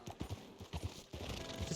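Horse hooves clip-clop in a video game as a horse flees a bear, a close, uneven run of thudding steps over a rushing background, with no talk.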